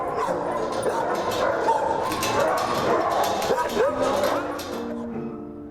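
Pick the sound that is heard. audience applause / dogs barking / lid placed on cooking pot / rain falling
dogs barking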